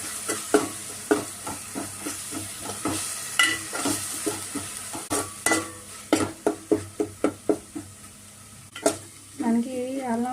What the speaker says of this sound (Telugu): పచ్చివాసన పోయేదాకా వేపుకోవాలి.